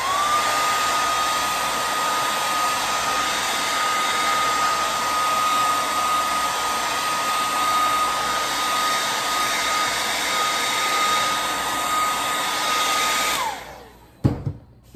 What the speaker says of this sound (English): You can let it dry on its own, or you can use a hair dryer.